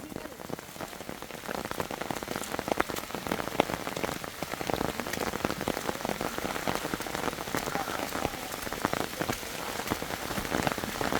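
Rain falling steadily, a dense, even patter of drops striking a nearby surface that continues unbroken throughout.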